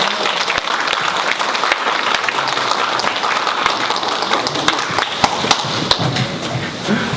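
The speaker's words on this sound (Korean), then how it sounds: "다시 한번 큰 박수 부탁드립니다" Sustained, dense applause from a forum audience after a presentation on walking and welfare, many hands clapping loudly and evenly throughout with no pause.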